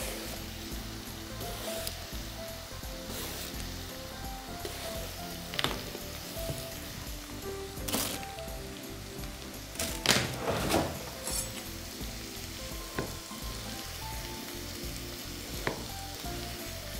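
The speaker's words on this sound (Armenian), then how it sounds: "Սմբուկը կրկին կտապակեմ բուսայուղով։" Chopped, peeled eggplant fries in vegetable oil in a pan, giving a quiet, steady sizzle broken by occasional louder stirring scrapes and spits.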